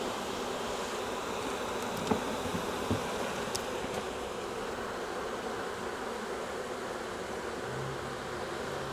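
A caught swarm of honey bees hums as a steady, soft, dense drone, with a few faint knocks partway through.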